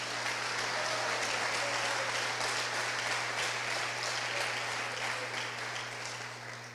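A church congregation applauds, a broad steady wash of many hands clapping over a low hum in the room, slowly fading toward the end.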